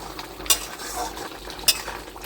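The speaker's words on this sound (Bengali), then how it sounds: "এটাকে একটু নাড়িয়ে দিই।" Chicken kosha is stirred in a pan with a utensil, producing a soft scraping sizzle punctuated by two sharp metallic clinks against the pan, heard up close.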